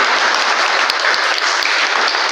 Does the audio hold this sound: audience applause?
yes